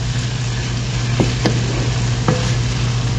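Chicken with onion and tomato sautéing in a pan, a steady sizzle under a low hum, with a few sharp spoon scrapes and clinks as it is stirred.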